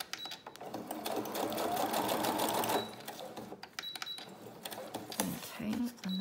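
A sewing machine runs in a steady whirring burst as it stitches around a paper junk journal label, then stops, followed by softer handling sounds while a person talks.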